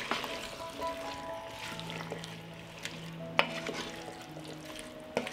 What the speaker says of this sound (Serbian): I krompir ću promešati.